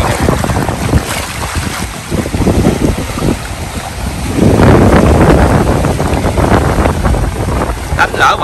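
Choppy river waves slap and wash around a small boat while strong wind buffets the microphone, a continuous rough roar with sloshing surges that swell toward the middle and stay loud throughout.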